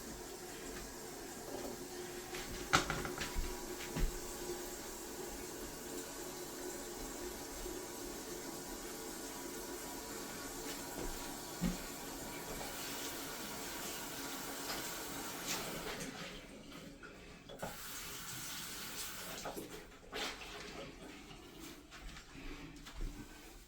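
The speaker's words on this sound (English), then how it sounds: "now I open the water. Okay, I open the water. Let the tank be full" Water runs steadily into a toilet tank after the supply is opened, a continuous hiss and gurgle of filling that holds for about fifteen seconds, then thins and tapers off in the final stretch.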